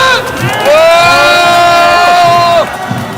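Crowd at a winter street rally in Seoul cheering and whooping, a loud sustained roar with a long high shout rising above it, then fading after a couple of seconds.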